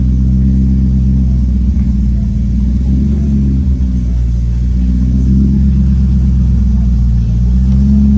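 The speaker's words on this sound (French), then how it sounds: "T'as vu comment le ralenti tourne?" A loud, deep sports car engine idles with a lumpy, rumbling beat, rising and falling slightly in a steady rhythm close by.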